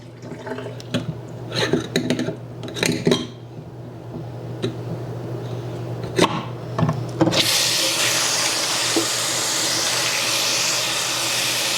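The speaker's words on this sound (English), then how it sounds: "So I'm going to drain this, and then I will fill this up again and rinse it a second and possibly a third time" Water is drained and then runs steadily into a sink basin to refill it for rinsing mushrooms, after a few clinks and knocks of handling; the running water is loud, broadband and continuous for the latter half.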